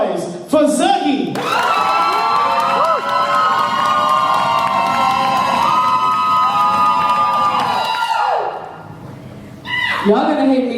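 Crowd at a live slam competition event erupting into loud sustained cheering and high-pitched screaming for several seconds after a host's amplified voice, fading briefly before another burst.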